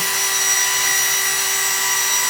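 A power drill mixes alginate with a steady, loud, high-pitched whine that holds constant throughout.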